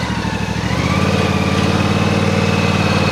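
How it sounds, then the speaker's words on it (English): A zero turn lawn mower engine cranks and catches, then settles into a loud, steady close idle with an even pulsing throb. "So I'm gonna start the mower here."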